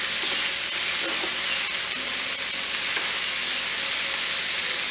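Vegetable macaroni stirred in a pan over low gas, hissing in a steady, even sizzle that runs throughout with no talking.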